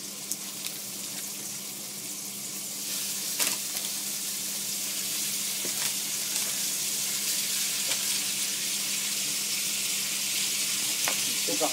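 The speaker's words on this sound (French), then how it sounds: "Donc, je mets la viande. Je vais la faire cuire de tous les côtés." Veal pieces sear in a wok with a bright, steady sizzle that swells slightly after a few seconds, broken by a few sharp clacks of utensils against the metal.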